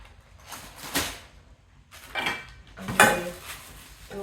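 A metal kadai pan pulled out of packed luggage, giving three separate clanks and rattles of metal on metal with rustling handling between them, close and moderately loud.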